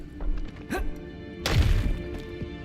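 Bombarda blasting spell impact in Hogwarts Legacy, a short thud followed by a louder crashing burst with rumbling debris, fairly close and alone.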